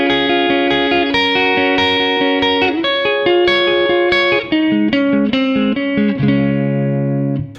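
Distorted electric guitar picks the second half of a song's chorus in standard tuning, a rapid flow of bright ringing notes with echo and chorus, loud and alone, closing on a sustained chord.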